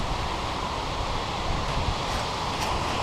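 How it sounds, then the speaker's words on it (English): Strong wind blows outdoors and buffets the microphone with a steady, close roar for the whole three seconds, with no other sound. "it's really windy here today"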